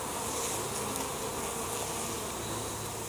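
Honey bees swarm around an open hive during an inspection, filling the air with a dense, steady buzz that stays close and unbroken throughout.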